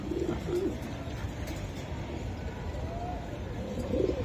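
A pair of racing pigeons at a pigeon farm coo nearby in soft, low repeated calls, a few throaty phrases over a steady background hum.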